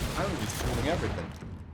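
Gunfire in Greedfall, heavy and close, cracks out in a dense burst from a new gun, with a voice talking over the shots.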